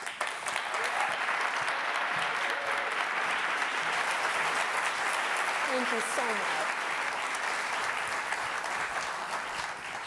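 Festival audience at an explorers event applauding warmly, a broad continuous roar of clapping lasting several seconds while a voice speaks briefly over it and a faint cheer rises midway.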